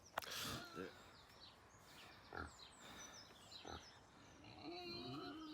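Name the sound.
two pigs grunting and squealing in the morning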